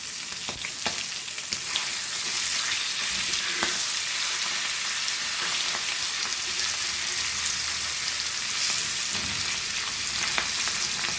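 Goan hilsa fish sizzles loudly and steadily in a hot pan, with occasional scraping knocks as the pieces are stirred and flipped over.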